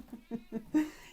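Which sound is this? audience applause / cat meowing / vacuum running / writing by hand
cat meowing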